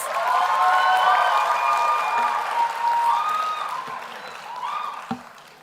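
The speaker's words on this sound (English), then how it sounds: "Can we have a round of applause for the students?" Graduation audience applauding Electrical and Electronics Engineering students at a Strathmore University ceremony, a broad sustained clapping crowd that swells, then thins out and fades, with scattered whistles and cheers.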